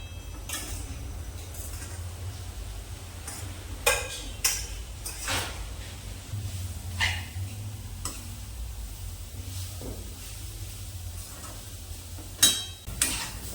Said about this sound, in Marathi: कढईमध्ये एक चमचा तूप टाकून हे खोबरं ओलं खोबरं जे बारीक केलेलं आहे ते टाकायचं कढईमध्ये